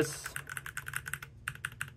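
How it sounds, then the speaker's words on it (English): A Made68 mechanical keyboard is typed on at close range in a steady run of crisp, clacky keystrokes. Faint low hum sits underneath, and there is a brief pause midway before the typing resumes. "This is a really freaking nice keyboard."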